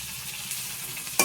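Tomatoes sautéing in a pan for Tamil-style snakehead fish curry, a steady soft sizzle with light stirring scrapes throughout, ending in a brief louder clatter near the close.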